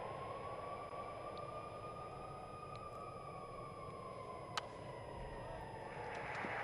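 A siren wails steadily in the distance at a baseball game, its long rising and falling tone carrying over a dense crowd roar, with a single sharp crack partway through.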